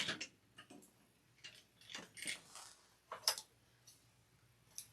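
A home sewing machine stitches back and forth to lock a seam on a Halloween trick-or-treat basket, giving quiet mechanical whirring bursts with ticking gear sounds in short, irregular runs.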